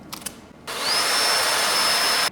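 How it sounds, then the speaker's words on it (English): A power drill spinning up and whirring steadily at high speed while adjusting a Weldbuddy mechanised stick welding rig, preceded by a couple of light clicks. "we have in this package it's included a drill"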